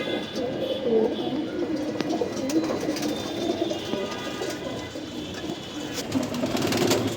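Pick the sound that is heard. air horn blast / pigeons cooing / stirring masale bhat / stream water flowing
pigeons cooing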